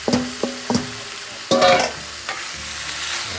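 Thin-sliced potatoes are stirred into sizzling sausage, peppers and onions in a pan, giving a few distinct scraping strokes over a soft, steady fry, with no voices.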